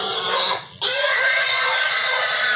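Pigs squealing loudly and continuously at close range, a shrill, harsh cry that breaks off briefly near the start and then resumes at full strength.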